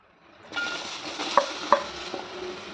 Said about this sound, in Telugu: మళ్ళీ దీంట్లోనే మనం పచ్చిమిర్చి కూడా వేయించుకోవాలి.